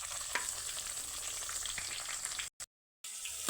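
Ripe red chillies fry in hot oil with a steady crackling sizzle, broken by a brief silent dropout near the end.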